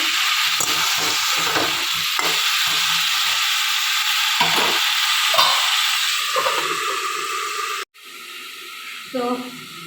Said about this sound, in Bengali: খিচুড়ির জন্য সবজি ভাজা করছি